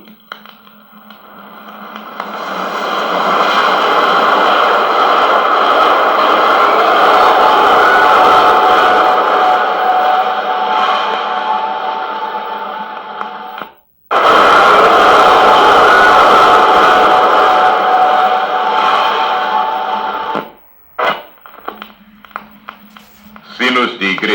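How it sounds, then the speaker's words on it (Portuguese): A passing train taken from a film sound effects record: a sustained, loud broadband rumble with steady rolling texture for about fourteen seconds, a brief cut, then more rumble before it drops away into short fragments. "Trem passando."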